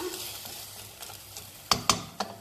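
Risotto sizzles softly in a pan, with a few sharp scraping clicks from stirring near the end.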